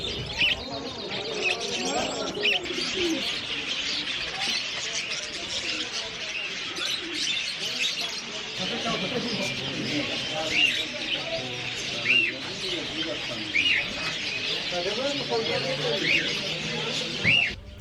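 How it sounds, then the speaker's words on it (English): Many pet birds chirp, tweet and coo steadily at a bird market on Chicken Street in Kabul, Afghanistan, with sharp whistled calls standing out over busy street noise and murmuring voices throughout. "a street with a bunch of birds that you can purchase as a pet if you'd like"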